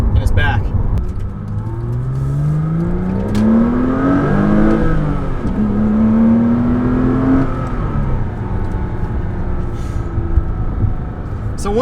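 A 2006 Porsche Cayman S mid-engine revs while driving, with engine pitch climbing through the gears, dipping at a shift and rising again, loud and steady inside the cabin.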